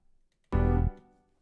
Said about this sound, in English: piano progression is being played pretty low